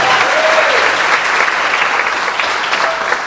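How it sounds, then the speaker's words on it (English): An audience at a school jazz band spring concert claps in steady, dense applause that fills the room, holding level for the whole stretch with no voices standing out. "Another round of applause for our director, Ms. Saraceno."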